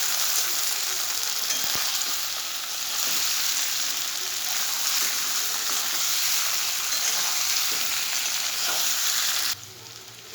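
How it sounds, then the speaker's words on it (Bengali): Spices with turmeric frying in a pan, giving a dense, continuous crackling sizzle close at hand with occasional stirring scrapes, then dropping off sharply right at the end. "দেখো মশলাটা ভাজা হয়ে গেছে,"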